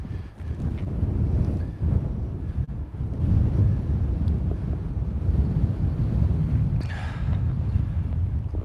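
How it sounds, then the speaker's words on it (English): Strong outdoor wind buffets the microphone in a constant, loud, rumbling roar that lasts the whole stretch without a break, with no talking over it. "It is very windy."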